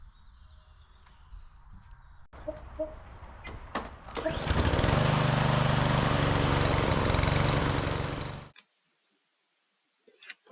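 An old Husqvarna weed trimmer engine sputters and tries to catch after some clicks and clatter, then runs loudly and steadily for about four seconds up close before cutting off abruptly into silence.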